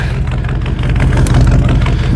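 A rough, steady engine rumble runs close and loud, an old Ford F-150 pickup motor running with a low, throbbing chug.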